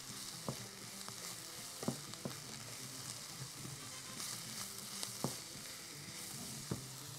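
Mushrooms sizzle steadily in a hot pan, a dense hiss of frying with occasional light clicks and stirring taps, close and moderately quiet, with no voices.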